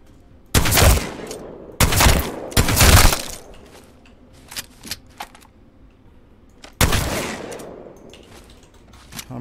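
The Mastiff shotgun in Apex Legends fires several loud, sharp blasts, three in close succession and another a few seconds later, with quieter in-game clicks and mechanical handling sounds between the shots.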